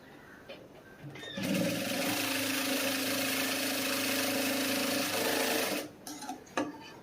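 A sewing machine stitching the front part of a cross-cut blouse, running in one steady, fast mechanical whirr of about four seconds, with quiet handling noises before and after.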